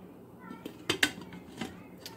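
Metal lid set onto a pot of boiling chicken and corn soup, a couple of sharp clanks close by followed by lighter rattles of metal against metal.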